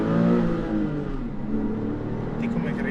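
A Porsche 996 Carrera's engine hums steadily with low harmonic tones while driving in second gear, accompanied by someone talking close by throughout.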